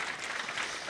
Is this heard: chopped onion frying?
no